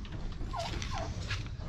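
A couple of short rising-falling turkey gobbles over a steady low rumble of background noise, moderately distant.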